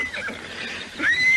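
A horse neighs twice in quick succession, a loud nearby whinny rising into a shrill drawn-out call, heard alone without speech.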